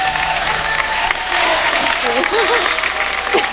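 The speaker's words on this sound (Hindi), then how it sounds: "एक बार जोरदार तालियां सोनाक्षी के लिए." Loud, dense applause and cheering from a TV comedy show studio audience for an actress, continuous throughout with tonal music layered on top.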